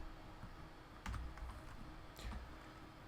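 Arduino code is typed on a computer keyboard, heard as a few close, quiet clusters of key clicks in two short bursts against a soft background hiss.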